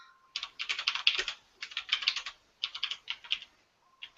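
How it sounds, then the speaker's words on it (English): A loud computer keyboard being typed on in quick bursts of clattering keystrokes, with short pauses between runs, close and alone with no voices. "my keyboard is loud, isn't it?"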